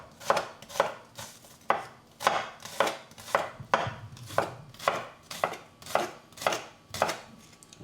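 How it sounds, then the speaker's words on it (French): Knife finely chopping shallot on a cutting board, about a dozen evenly spaced, crisp thuds in a steady rhythm, close and clear with no talk. "Première opération, on va détailler finement l'échalote."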